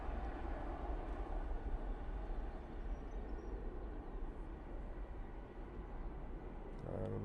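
An airliner departs Manchester Airport, a steady broadband jet roar that holds loud and even throughout with no voices.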